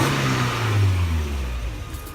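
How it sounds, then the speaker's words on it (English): Mazda Miata engine revving through a glass pack exhaust, a loud, close, raspy rising and falling rev that swells and then settles toward idle, with no talking over it. "this glass pack over here. Rev it?"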